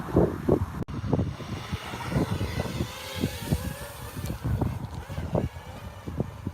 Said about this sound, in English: It is pretty windy